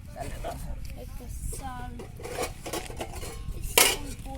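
Plates and cooking dishes clatter and clink close by in a village kitchen, with scattered handling noises running under continuous talk and one sharper knock near the end.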